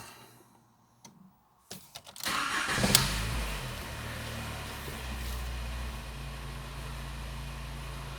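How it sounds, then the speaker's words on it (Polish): A Skoda Fabia car engine cranks and starts after a few clicks, then settles into a steady, close idle that keeps running. "Silnik pracuje poprawnie."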